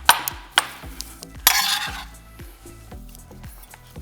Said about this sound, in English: I'm gonna give that a stir real quick and see what we got going on here.